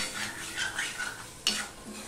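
Potatoes frying with poppy seeds in a pan, heard as a soft sizzle with quiet stirring and scraping, and one brighter utensil tap near the middle.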